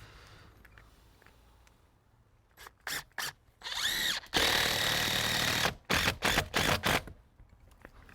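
Power drill boring through a roof with a self-adhering, self-sealing membrane and 6-inch threaded bolts: short whining bursts, then a sustained loud grinding drill run, followed by several more quick bursts, all close by.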